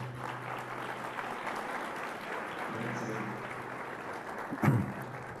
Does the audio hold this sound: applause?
yes